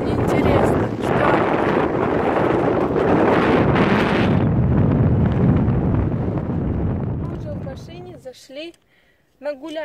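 Strong wind by the sea roars and buffets the microphone in loud, continuous gusts for most of the stretch, then drops away as a voice comes in near the end.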